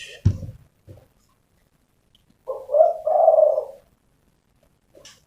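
A tame decoy bird used for luring wild birds gives a soft cooing call in the middle of an otherwise quiet stretch, with a couple of brief knocks before and a faint sound at the end.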